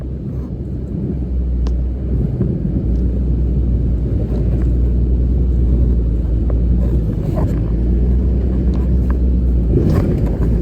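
Toyota Hilux engine on an overland trip in Namibia, a steady loud low rumble of the vehicle driving throughout with no clear rise in revs, close and continuous.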